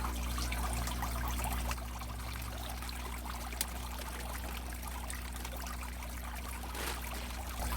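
Water pours steadily into a plastic bag holding fish for a backyard tarpaulin pond, a continuous close trickling stream with a low hum beneath and no talk.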